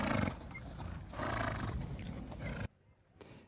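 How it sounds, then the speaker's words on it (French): A young yearling horse with a fluttering soft palate in front of the larynx makes a loud, harsh, roaring breathing noise that rasps steadily for a few seconds, then cuts off abruptly into near silence. "Vous voyez le voile du palais qui flotte devant le larynx et qui fait un bruit de voile en fait."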